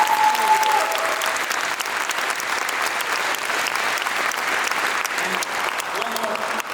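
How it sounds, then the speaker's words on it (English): An audience applauding at a live tribute concert at the University of Miami, a dense, steady wash of many hands clapping that holds at full strength for several seconds without pause. "please keep clapping for Mr."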